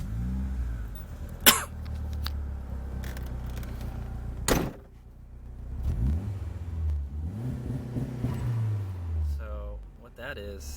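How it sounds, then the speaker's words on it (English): A 1998 Mitsubishi Eclipse GST turbo engine set to anti-lag revs in neutral, a low rumble rising and falling through several throttle blips, with sharp pops and knocks standing out at close range. "Let's go listen to the engine real quick."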